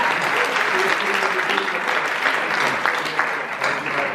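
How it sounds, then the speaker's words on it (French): Applause from a convention panel audience, dense and sustained across the whole stretch, with voices talking over the clapping. "Allez-y, applaudis comme ça."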